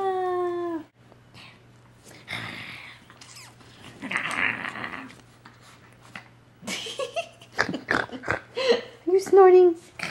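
A small dog named Gizmo snorts and huffs in short breathy bursts close by, mixed with a few yelps and a brief howl, while people talk and laugh around him.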